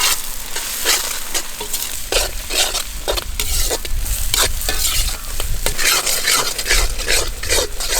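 Sliced onions sauté in a pan for egg chukka, their steady sizzle crackling loud and close, broken by the quick rhythmic scrape of a spatula stirring throughout.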